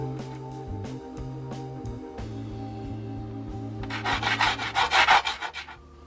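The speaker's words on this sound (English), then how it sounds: "put it against the sandpaper back and forth" An opal stone rubbed back and forth by hand on sandpaper, a quiet rhythmic scraping that turns into loud, rapid rasping strokes near the end, over a steady background hum.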